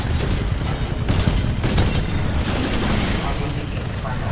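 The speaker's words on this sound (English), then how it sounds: "Tracking rockets!" Tracking rockets fire in the video game Titanfall 2 with heavy booming bursts and explosions, all over a loud, continuous din of combat.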